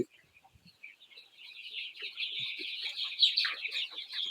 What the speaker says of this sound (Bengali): মুরগিগুলো আজকে ভালোভাবে হাঁটতেছে, চলাফেরা করতেছে।